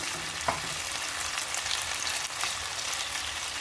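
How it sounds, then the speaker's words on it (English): Beef pieces sear in a hot pan for beef and broccoli, giving a steady, fairly quiet sizzling crackle with a faint clink of stirring near the start. "you're going to let these sear until they get a nice brown color"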